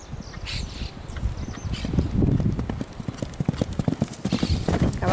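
A fast, spirited dark-bay horse's hooves clip-clop in a quick, uneven rhythm on hard ground, fairly close, with a faint bird call and some background noise.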